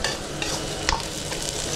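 Onions sautéing in a pan for a Filipino home-cooked dish, a steady soft sizzle with light stirring scrapes and a brief clink near the middle, no talking.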